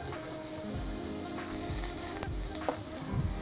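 Pumpkin slices roasting in a frying pan, a steady soft sizzle with a few scraping and clicking sounds close by, and no talking.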